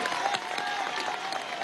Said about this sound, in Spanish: Fuerte el aplauso del pueblo deportivo y de Venezuela para nuestra generación de oro